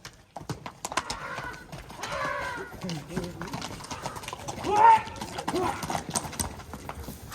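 Horses' hooves clip-clop on the ground during an ulak match in a Kyrgyz village, irregular hoofbeats close by, mixed with shouting voices, a whinny and crowd noise.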